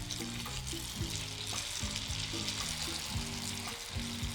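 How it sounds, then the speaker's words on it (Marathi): Kachori dropped one by one into hot oil for deep frying, a dense, steady sizzle and crackle with occasional clinks of a utensil, close and continuous, no voices. "यामध्ये आपण हे कचोरी सोडूयात एक एक।"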